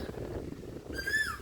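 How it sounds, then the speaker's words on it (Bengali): A single rising-and-falling Asian koel call rings out near the end, fairly faint over a quiet background hum, outdoors at a riverside ghat. "কোকিল ডাকছে"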